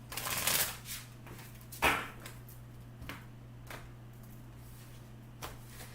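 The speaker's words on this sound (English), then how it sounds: "One more good shuffle." Cards are riffled and tapped together, a quick shuffle followed by a few soft clicks and shuffles at intervals, close by over a faint steady hum.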